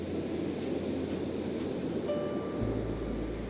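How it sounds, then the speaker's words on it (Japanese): Ocean waves wash in a steady, soft, continuous hiss with no clear individual breakers and no voices. "波音があなたの明日を少し軽くしてくれるはずだ"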